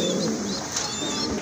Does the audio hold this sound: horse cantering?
no